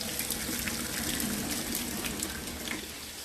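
Hot water and boiled potatoes pour into a strainer in a home kitchen, a steady gushing splash lasting a few seconds and fading slightly at the end, close by and with no talking.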